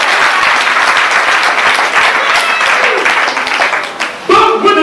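A church congregation applauds to acclaim the Lord, with loud, sustained, dense clapping from a large crowd that keeps going steadily, then a voice breaks in at the very end.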